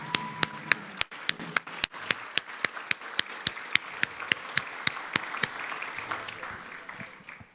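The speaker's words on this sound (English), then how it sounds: "round of applause" Audience applause at a city State of the City address, a steady wash of many hands clapping with sharp individual claps standing out, sustained at moderate level throughout.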